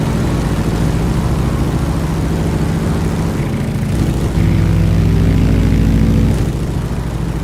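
A big radial-engine vintage propeller aircraft in a flight simulator set on Papua New Guinea bush strips drones steadily, a loud, even low engine hum that swells slightly toward the end, with no voices.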